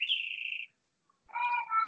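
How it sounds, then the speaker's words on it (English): Small bird singing outdoors: a sustained bright whistled note, a short pause, then a richer warbling phrase, fairly close and clear with nothing else beneath it. "a bird singing."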